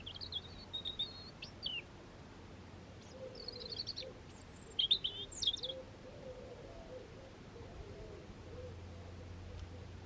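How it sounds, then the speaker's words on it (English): Pet bird Rene twittering and singing: thin, high chirps and short warbled phrases come in scattered bursts, faint and somewhat distant, over a low steady room hum. "he was behind me and he was twittering and singing"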